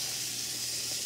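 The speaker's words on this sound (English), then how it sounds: "Next, we're going to fry them." Sunchokes fry in hot oil with a steady, close hiss and crackle that holds evenly through the brief moment, with no voices over it.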